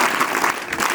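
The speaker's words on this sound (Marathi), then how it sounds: "वाजवा की टाळ्या एकदा." Students clap together at a school retirement honour ceremony, making a dense, steady burst of applause that fills the whole moment without any talk over it.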